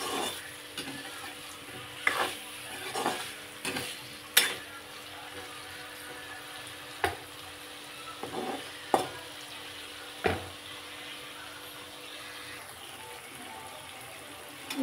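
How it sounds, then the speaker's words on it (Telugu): Paneer curry stirred slowly in a pan over a quiet, steady sizzle, with spaced spoon scrapes and knocks against the pan every second or two, close and unhurried. "స్లోగా కలుపుకుందాం."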